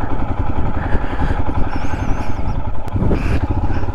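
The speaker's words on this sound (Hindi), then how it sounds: "फिर भी यार पूरा बाइक इधर उधर हो रहा है।" Motorcycle ridden over a rough mountain road toward Khardung La, engine droning close and loud with clattering jolts throughout and a sharp knock near the end, no talk over it.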